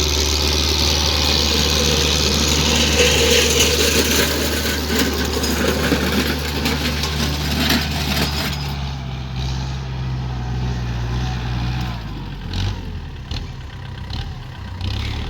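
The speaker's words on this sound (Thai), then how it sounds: "สี่เจ็ดดีทีก็เครื่องยนต์สี่สูบค่ะ" A Kubota L4708 four-cylinder tractor engine idles with a steady low chugging rumble throughout, loud and close, settling slightly quieter partway through.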